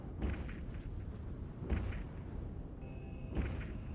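Ship weapons in Eve Online firing at a target, three heavy booming shots spaced evenly over a low rumbling hum, each with a short crackling tail.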